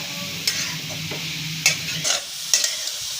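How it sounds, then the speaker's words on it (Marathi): Grated carrots for carrot halwa sautéed in a pan, a soft sizzle under a few sharp spatula scrapes and knocks, close, with no speech. "चांगलं परतून घ्यायचं"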